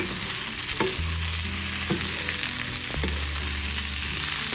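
Fried potatoes sizzle and crackle in a hot pan as they are stirred, with a steady frying hiss and scraping strokes of the utensil at irregular intervals, close and clear.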